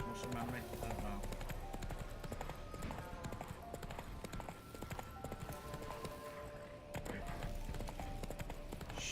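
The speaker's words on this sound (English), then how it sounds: "Run, Roach." Hoofbeats of a horse named in-game galloping in The Witcher 3, a steady rapid clip-clop running throughout over game music and ambience, with occasional whinnies.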